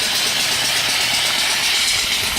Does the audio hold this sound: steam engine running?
yes